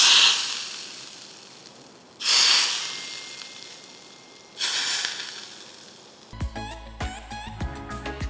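Hot phodni of cumin, garlic, coriander and a pinch of hing poured over pithla, giving three separate bursts of loud sizzling hiss with quieter tails, then a short stretch of clinking kitchen sounds.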